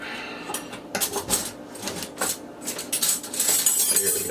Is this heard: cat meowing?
no